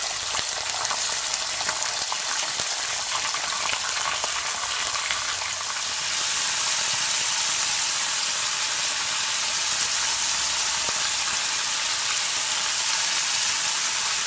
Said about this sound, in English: So my oil is hot, so now I'm gonna add my bacon.